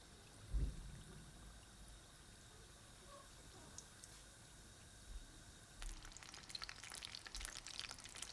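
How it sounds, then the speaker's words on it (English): Half moon pastries frying in hot oil, a faint steady crackling sizzle with light popping throughout, one soft bump near the start and slightly busier bubbling toward the end. "once the oil was nice and hot, put in your half moons and fry"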